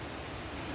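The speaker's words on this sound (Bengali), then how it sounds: "দেখো বৃষ্টি দেখো" Rain falls steadily during a thunderstorm, a dense, even hiss of drops that fills the short moment with no voices over it.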